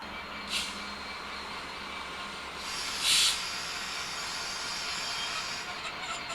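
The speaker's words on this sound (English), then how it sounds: "following closely behind the electric is a diesel HST set" A diesel HST train passes beneath the M18 motorway near milepost 152 on the Newark to Doncaster line, giving a steady, moderately distant rumble and hiss with brief brighter swells, no speech.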